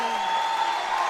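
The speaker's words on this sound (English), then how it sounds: "Listen to the crowd." Crowd cheering and applause erupt in a college basketball gym as a player at Elmhurst becomes the all-time leading scorer, a steady wash of voices with a commentator talking over it.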